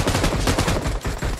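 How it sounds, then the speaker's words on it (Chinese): Automatic gunfire crackles in loud, rapid bursts during a battle royale video game fight. The shots come close and dense, with brief gaps between volleys. "有枪声，在哪里？"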